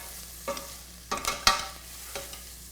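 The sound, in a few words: pancetta frying in a pan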